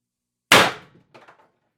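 An IntruBuster G2 launcher fires a single ART 8g S-type round: one sharp, loud, close report that decays quickly, followed by faint mechanical rattles.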